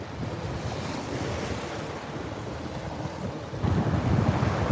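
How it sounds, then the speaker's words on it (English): Ocean surf rolls in steadily at Fort Myers Beach on Florida's Gulf coast, with wind buffeting the microphone throughout and the wash of waves growing louder and heavier near the end; no voices. "listen to the sound of the waves and the wind"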